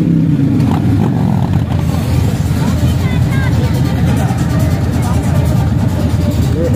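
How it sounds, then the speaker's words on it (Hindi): A group of Lahore bikers' motorcycles pull away slowly outside a hotel opening in Haripur, a steady low engine rumble that fills the whole stretch at constant loudness with a busy outdoor background. "ये आहिस्ता आहिस्ता निकल रहे हैं बाइकर्स सारे।"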